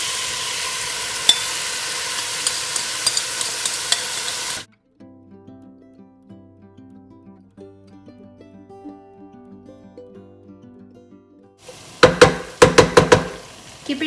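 Marinated shrimp hiss and crackle loudly in a hot pan for several seconds while being stirred. The pan then goes quiet under soft tonal background sound before a burst of sharp clattering knocks near the end.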